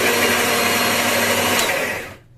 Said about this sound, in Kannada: ಈಗ ಇನ್ನೊಂದ್ಸತಿ ಹಾಕೋತೀನಿ ಮಿಕ್ಸಿನ